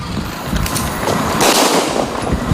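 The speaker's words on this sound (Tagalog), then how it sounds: "Umalingaw-ngaw ang mga putok ng baril" Rapid bursts of gunfire crackle in a noisy, continuous volley on a street, loud and harsh with no voices.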